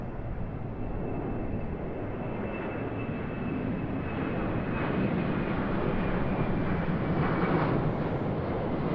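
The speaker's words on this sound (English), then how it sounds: "So there's our Qantas Boeing 737-800." A Qantas Boeing 737-800 at Sydney Airport gives a steady, loud broadband jet engine roar that swells slightly toward the end, with no talk.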